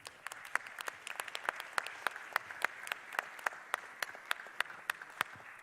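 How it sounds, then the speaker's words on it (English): An audience at a chamber of commerce candidate forum held in a church claps steadily for several seconds, with sharp, distinct individual claps standing out over a sparse crowd, fairly distant and moderate in volume. "Can we give them a round of applause?"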